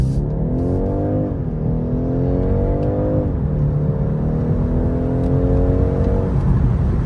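A 2024 BMW 2-Series coupe driven in sport mode on back roads, its engine note rising in pitch as it revs, dropping sharply at each gear change, then climbing again, a loud continuous drone heard from inside the cabin.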